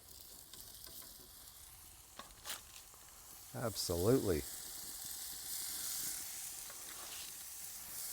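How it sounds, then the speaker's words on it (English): Eight two-ounce beef burger patties hit a smoking-hot pan, setting off a steady, broad sizzle that swells and continues to the end, with brief stirring or scraping sounds and a short spoken word over it. "It's just starting to smoke, so there'll be sizzling action going on."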